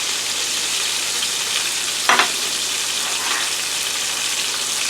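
Shrimp and scallops fry in hot oil with a steady, close sizzle, broken once by a short clatter as pieces are turned over; no one speaks.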